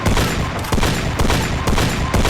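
Rapid bursts of gunfire in a video game, loud and dense, overlapping shots in a continuous fusillade with short gaps, no voices.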